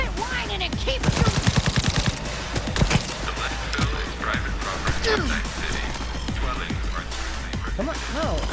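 Rapid bursts of automatic gunfire in the video game Cyberpunk 2077, loudest early on and then continuing as scattered shots and clatter through a busy, noisy firefight, with voices talking throughout.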